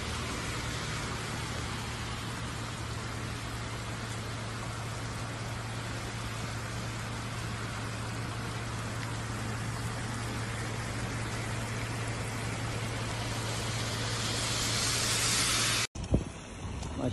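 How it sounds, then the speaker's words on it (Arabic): Moderate to light rain falls steadily during flooding in Jizan, Saudi Arabia, a dense unbroken hiss with a low hum beneath, ending abruptly with a sharp thump. "الآن أمطار متوسطة إلى خفيفة"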